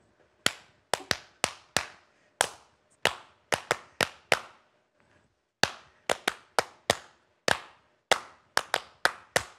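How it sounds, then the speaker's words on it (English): A group claps Cook Islands drum rhythms with bare hands, sharp close claps in quick patterned bursts with short pauses between phrases, no talking. "you've got your trusty hands, and they will always bring the drums of the Cook Islands wherever you are."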